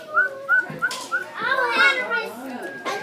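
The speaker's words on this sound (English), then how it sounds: "Can everyone try to whistle?" Children in a classroom try to whistle during a read-aloud of Whistle for Willie, producing a series of short breathy, wavering whistles mixed with giggles and chatter, close and lively.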